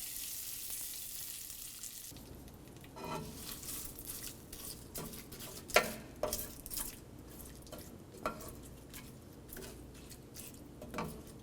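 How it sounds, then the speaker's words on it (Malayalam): Fried mustard seeds are stirred into a ginger curry (inji curry) in a pan, giving a soft steady sizzle broken by sharp scrapes and clinks of the spoon against the pan, close and quiet, with no talk. "ഈ കടുക് വറുത്തത് ഇഞ്ചിക്കറിയിലോട്ട് ഇതുപോലിട്ട് നന്നായിട്ട് മിക്സ് ചെയ്യുക"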